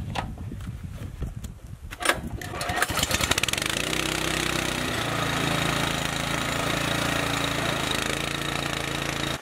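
A small gas snow blower engine treated with fuel stabilizer starts up and settles into a steady, loud running drone with a buzzy, chugging rhythm, holding evenly for several seconds before cutting off abruptly.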